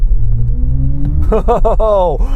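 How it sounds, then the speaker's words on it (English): BMW i4 electric car accelerating with a synthetic drive sound composed by Hans Zimmer: a low rising hum swells into loud, pulsing, futuristic whooshing tones that climb in pitch, close and dominant. "So when you accelerate, you get that whoa noise,"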